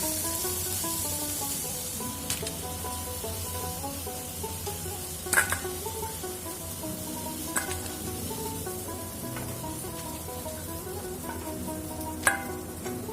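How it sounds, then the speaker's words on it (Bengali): Shrimp crisping in hot oil in a pan make a continuous, even sizzle close by, broken by a few sharp clinks and spatters. "এবার চিংড়ি মাছগুলো আমি একদম কড়া কড়া করে লাল লাল ভেজে নিয়েছি।"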